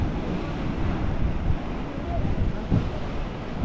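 Sea surf at Hedvi on the Konkan coast washing and splashing against the shore, a steady roar of waves with wind buffeting the microphone and a brief louder surge near the end.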